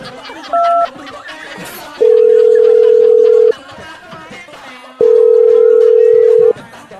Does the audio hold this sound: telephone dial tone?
yes